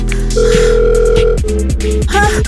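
A telephone rings repeatedly on an unanswered call, sounding as a loud, clear electronic tone held for about a second, then a run of shorter, faster beeping tones.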